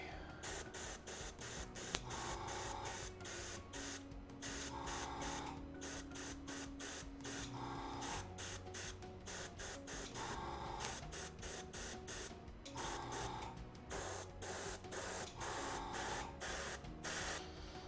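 Aerosol spray paint hissing steadily as yellow armor on a miniature is coated, a continuous close, loud spray with short pauses and bursts throughout.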